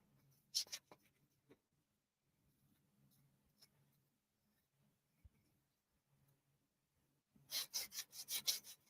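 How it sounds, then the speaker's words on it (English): Hand sanding produces soft, close scratchy rubbing in short strokes, a brief burst at the start and a louder, rhythmic run of strokes near the end, with quiet pauses between. "I'm going to give these just a quick little sand here"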